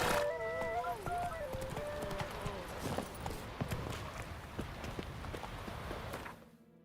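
A horse in The Witcher 3 gallops with rapid rhythmic hoofbeats, opening with a whinny, under a man's brief spoken lines.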